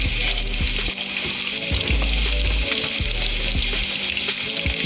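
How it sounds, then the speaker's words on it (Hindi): Onions fry in hot oil for a masoor dal tempering with a loud, dense sizzle and crackle, broken by repeated low knocks and scrapes of a spoon against the pan. "ऑयल को गरम कर लें। तो इसके अंदर प्याज डालें"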